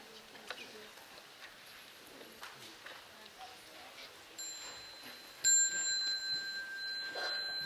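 A small bell rung during a meditation session with chanting gives a quiet, sustained ringing tone, struck twice a second apart, each ring lingering over a soft room background.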